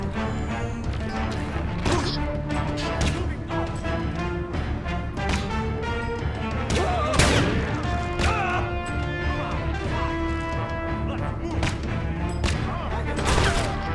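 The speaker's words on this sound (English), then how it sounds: "just shoot him" Rapid gunfire in the video game Crysis, dense repeated shots and impacts over a busy game soundtrack, loud and continuous with a sharper burst midway.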